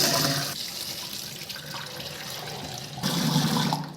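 Black gram is washed by hand in water, with close splashing and rushing water, louder at the start and the end, and swishing and sloshing in between.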